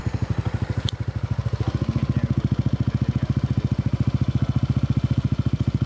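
A modified Yamaha Aerox scooter engine runs close by with a rapid, even, throbbing pulse and a single sharp click early on, holding a steady pace without clear rises in revs.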